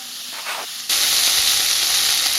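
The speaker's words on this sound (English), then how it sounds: "we're going to stir it up so everything is well combined" Beans and crispy pepperoni go into a hot pot, where a quiet stir is followed by a sudden loud, steady sizzling hiss up close.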